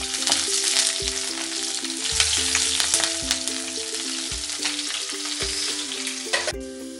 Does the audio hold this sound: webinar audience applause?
no